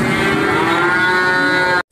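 A cow gives one long, loud, nearby moo at Pasar Pahing in Beji, Tulungagung, a livestock market where goats and cattle are sold together. The call stops abruptly at the end.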